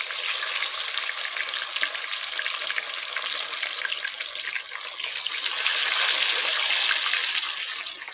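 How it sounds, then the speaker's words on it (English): Steady, loud sizzling and crackling of barracuda fish frying in hot oil in a pot, continuous and close, swelling slightly toward the end. "So while the fish is frying"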